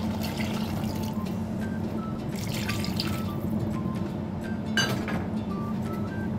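Water pouring steadily into a metal pan holding chicken feet and peanuts, a continuous splashing stream with light clinks, close by and without talk.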